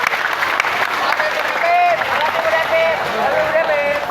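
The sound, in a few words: audience applause for the mathematics teacher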